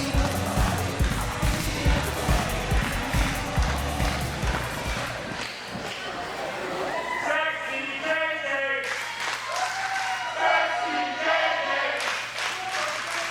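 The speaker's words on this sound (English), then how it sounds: "And a chant we've heard more than our fair share of up to this point, Sexy JJ from the crowd." Wrestling crowd at a Super Shogun Wrestling event chanting "Sexy JJ", heard as rhythmic, repeated crowd noise with clapping-like pulses, followed by someone commentator speaking over lower arena ambience.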